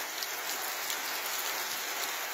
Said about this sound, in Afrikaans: En dit reën nog.